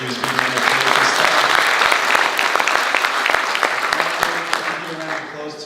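An audience at a renewable energy forum claps steadily in a full, continuous round that swells and then thins out near the end.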